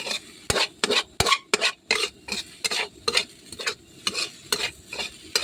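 Home-style Thai pork and egg fried rice is stir-fried in a hot pan, with a rhythmic run of about a dozen close scraping tosses over a soft background sizzle.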